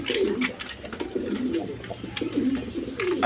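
Pigeons of several breeds, including Lahori, coo in repeated low throaty phrases close by, overlapping rhythmically with no talking.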